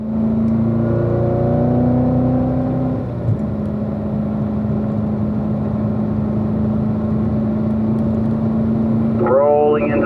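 A race car accelerating under throttle along the back straight of a track, its engine droning steadily and loud with a brief dip in pitch, like a gear change, early on, then a high whine near the end.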